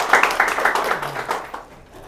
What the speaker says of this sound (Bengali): হাততালি হবে জোরে।